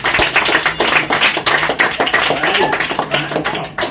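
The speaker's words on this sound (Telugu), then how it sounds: "క్లాప్స్ కొడండి." A group of friends clapping together at a casual gathering, a dense patter of many hands that runs steadily through the whole moment, close and fairly loud, with faint voices mixed in.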